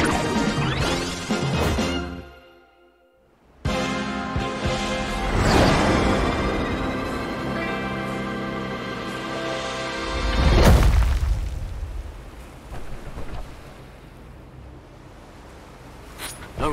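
A Geyser attack from the UFO Robot Grendizer video game erupts in loud crashing, booming impacts with whooshing bursts, a brief silent gap, then a big surging blast that fades into a rumbling tail.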